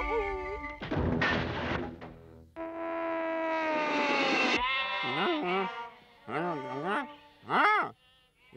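A cartoon sheep bleats in long, wavering cries, interspersed with animated voices and other bleats that a voice may be imitating; the sounds are loud and close.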